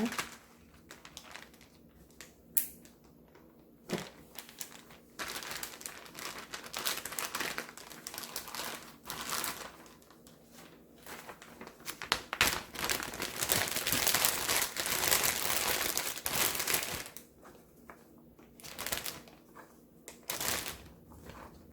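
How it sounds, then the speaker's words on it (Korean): Plastic zipper bags crinkle and rustle while ginger is portioned into them by hand, giving close, irregular bursts of crackling with brief pauses, busiest in the middle stretch. "이렇게 소분해가지고 여러 지퍼에 소분해서 넣어줍니다."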